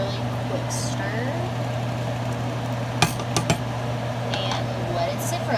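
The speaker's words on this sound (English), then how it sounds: "One last really quick stir" A spoon gives a few brief clinks against a pot of just-boiled food during a quick final stir, the sharp taps standing out over a steady hum of a fan or appliance in the kitchen.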